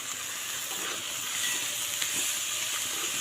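Spice mix frying in a pan, a steady, close hissing sizzle that holds evenly throughout with faint stirring scrapes.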